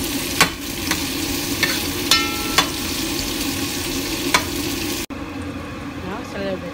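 Onion is mixed and fried in a pan, a loud, steady sizzle broken by several sharp scraping clicks from the stirring utensil at irregular intervals, then a sudden drop to a quieter, fainter sizzle near the end.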